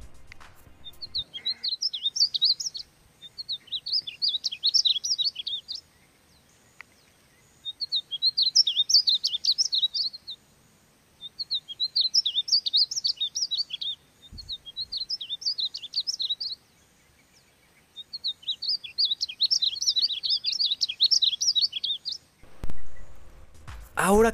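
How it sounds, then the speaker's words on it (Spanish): Bright, high-pitched painted bunting song in several separate bursts of quick warbling phrases, separated by pauses, clear and fairly close over a quiet background. "Escuchemos un poco del canto de este colorido pájaro"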